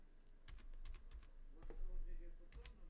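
Typing on a computer keyboard while installing Void Linux, a quiet, irregular run of clicky keystrokes in small bursts, with a few heavier key presses standing alone.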